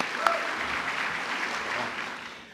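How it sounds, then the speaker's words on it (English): Applause from the audience at an awards banquet, a steady, dense wash of clapping that fades slightly toward the end, with one brief sharp click near the start. "Let's give Donna another round of applause."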